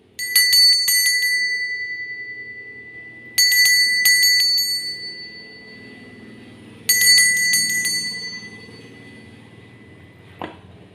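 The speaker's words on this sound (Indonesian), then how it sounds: "Kita akan memulai dengan ditandai lonceng berbunyi." A bright bell rings in three separate bursts of quick repeated strikes, each ringing out and fading before the next, with a faint click at the end.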